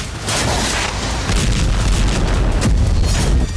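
Heavy booming explosions from Hezbollah attacks on Israel near the southern Lebanon border, a loud rumbling blast that swells in and rolls on with dense, noisy low-end thunder and no voices.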